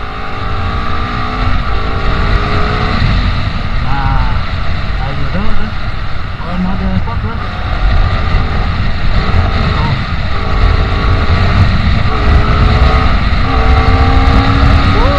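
A Honda CBR250RR motorcycle engine revs up and down as the throttle opens during a test ride, loud and close with rising and falling pitch sweeps, accompanied by steady road and wind noise.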